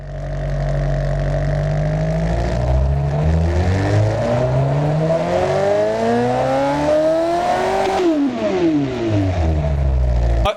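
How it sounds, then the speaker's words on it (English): Twin-turbo V8 NASCAR engine of about 1,400 horsepower in BeamNG, with big dual exhaust pipes, revs loudly and climbs steadily in pitch, then drops sharply, roaring up close. "the twin turbo sounds pretty good"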